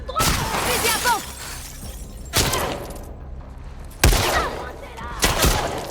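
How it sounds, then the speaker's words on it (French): Shotgun blasts in The Last of Us Part II survival mode, four loud sharp bursts spaced a second or two apart, with a quieter stretch of game ambience between them. "Fusil à pompe!"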